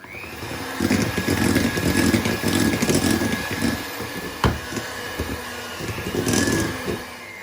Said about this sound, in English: you can't do it with the blender anymore.